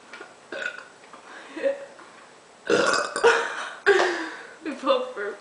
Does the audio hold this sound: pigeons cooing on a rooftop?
no